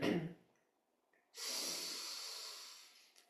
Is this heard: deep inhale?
yes